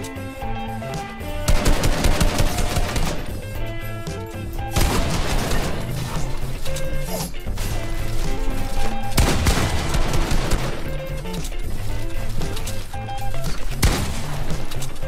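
Rapid bursts of automatic gunfire and single shots crackle loudly in the Fortnite video game, coming in repeated volleys with brief gaps and a few heavy crashes between them.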